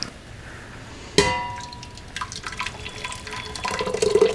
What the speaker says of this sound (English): So adding our soup to our pan or our pot.